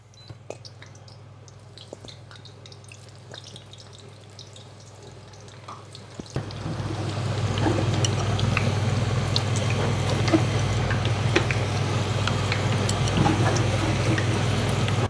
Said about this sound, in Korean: 자, 이제 가지를 한번 튀겨 보겠습니다.